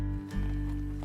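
Horse hooves pounding in the Western video game GUN (2005), a short burst of galloping mixed under a steady droning game soundtrack with no voices.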